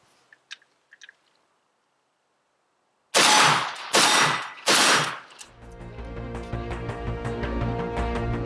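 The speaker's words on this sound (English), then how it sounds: "we'll get back to shooting and see if we can ring that steel a little bit" A Yugo M92/M85 AK-47 rifle fired outdoors at a steel target 50 yards downrange: three loud, sharp shots spaced about a second apart, followed by a ringing, echoing tail.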